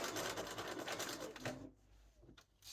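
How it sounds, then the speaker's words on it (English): A sewing machine taking a few quick stitches at the corner of a duster coat collar, a brief close run of rapid mechanical clatter that stops abruptly, leaving quieter room sound. "just going to take a couple of stitches like that"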